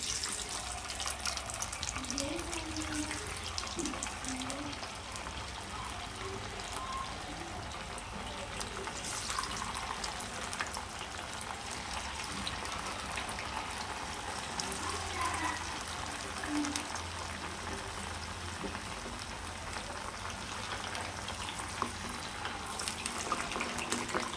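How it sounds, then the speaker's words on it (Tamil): Fish frying in hot oil in a home kitchen, giving a steady, dense crackling sizzle that runs unbroken at a moderate level, with no talking. "இப்போ நம்ம மீன் போட்டு பொரித்து எடுத்துக்கலாம் எண்ணெயில்"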